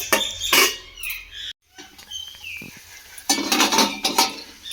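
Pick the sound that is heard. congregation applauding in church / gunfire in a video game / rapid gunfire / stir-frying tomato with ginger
stir-frying tomato with ginger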